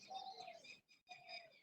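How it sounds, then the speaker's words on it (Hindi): Birds chirp and call outdoors during an open-air yoga session, with a dove-like cooing phrase and steady tweeting, a brief gap, then another clear call, moderately near and with no talking. "पक्षी बोल रहे हैं, कलरव कर रहे हैं"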